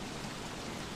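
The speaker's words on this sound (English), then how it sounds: "I think it's because it's raining." Steady rain falls in the survival game Don't Starve Together, a dense, even hiss of drops spread across the whole second with no pauses and no voices.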